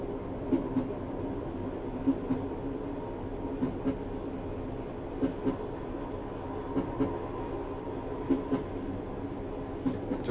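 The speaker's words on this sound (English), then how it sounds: "I've just idled the power to allow the train to coast." A train coasts with the power idled in Train Simulator 2018 on the Blaenau Ffestiniog to Llandudno route. A steady low rolling rumble carries regular paired clicks from wheels passing over rail joints.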